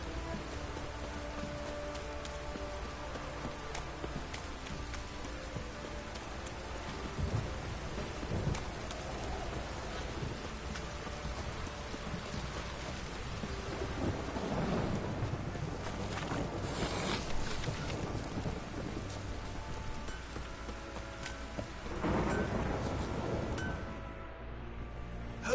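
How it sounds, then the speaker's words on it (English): Heavy rain pours steadily in The Witcher video game, a dense continuous hiss with low rumbles of thunder swelling around the middle and again near the end. "This downpour's a bastard, it is."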